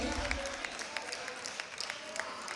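An audience at a beauty pageant applauds the outgoing queen as she hands over her crown, the clapping steady and fairly faint in a large room, with scattered shouts mixed in.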